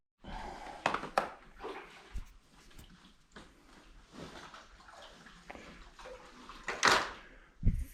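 Water runs and sloshes into a mop bucket inside a trailer home, with irregular splashes, knocks and handling bumps, some sharp and loud, spread over several seconds without speech.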